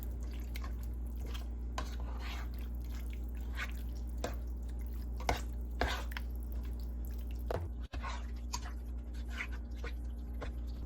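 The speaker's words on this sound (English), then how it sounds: "And with our handy dandy little spatula, we're just gonna mix." Soft wet squelching and intermittent clicks of a small spatula stirring food in a bowl while making lasagna, close and quiet over a steady low hum, with one sharp knock partway through.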